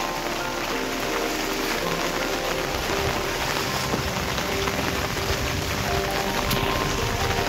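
Steady rain falls on the grounds of Itachuna Rajbari, a rural estate in Hooghly, West Bengal. The dense, even patter of drops on surfaces continues unbroken and fairly close, with no talking.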